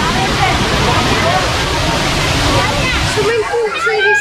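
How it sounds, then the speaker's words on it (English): A waterfall in Rishikesh, heard from a bridge, makes a loud, steady rushing roar that fills the whole stretch, with people's voices faintly mixed in toward the end. "Another waterfall at the top."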